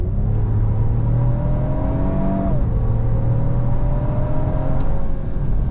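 A 2025 Lexus GX 550 SUV engine revs hard under full throttle in sport mode, its pitch climbing steadily, dipping briefly at a gear change, then rising again, loud and close throughout.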